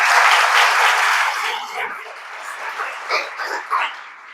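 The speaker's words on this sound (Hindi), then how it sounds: "तो पहले बहुत जोर जोर आप लोग ताली बजाएं।" Applause from an audience at a coaching institute celebration for a selected BPSC civil services candidate: dense clapping at first, thinning into scattered claps after about a second and a half.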